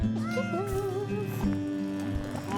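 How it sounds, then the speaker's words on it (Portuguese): Several cats meow one after another in the video game I Am Dead, with overlapping, wavering cries up close against a soft background hum. "Meu Deus, quantos gatinhos."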